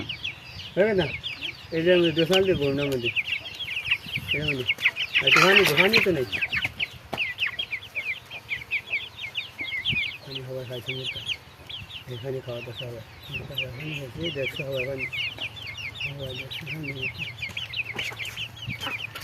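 Chickens outside cluck and call steadily for about nineteen seconds at moderate distance, with a few louder squawks, while a person talks over them at intervals.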